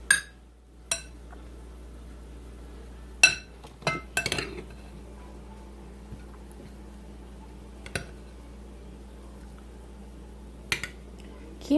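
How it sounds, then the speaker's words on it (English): Quinoa scooped onto dinner plates beside steak and zucchini, heard as a few scattered clinks and scrapes of a utensil against dishware over a quiet, steady room hum. "I'm just going to scoop some quinoa onto the plates"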